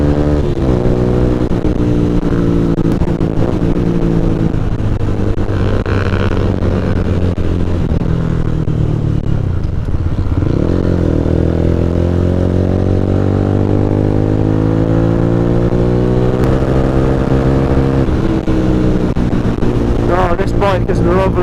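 A Honda CBR 125 motorcycle engine while riding, a steady droning buzz that rises and falls in pitch through gear changes, heard close up with constant wind rush over the microphone.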